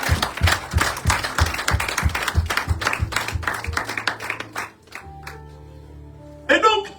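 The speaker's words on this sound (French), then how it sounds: "Applaudissez-vous vous-même." A church congregation clapping hands in a strong, rhythmic beat, loud and close, gradually thinning out and stopping, followed by a quieter stretch with sustained tones and a short final burst of sound.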